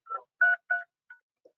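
Telephone keypad tones entering an audio PIN on a conference call: five short beeps in an uneven sequence, the last two quieter and briefer, with silence between them.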